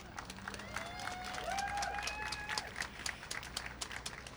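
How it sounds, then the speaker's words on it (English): Audience at a press announcement for a mural tribute applauds and cheers the selected artist, with a brisk wash of clapping running throughout and a high whistle or cheer rising midway, heard from some distance. "and I want everyone to give him a huge round of applause, is Sean Theodore."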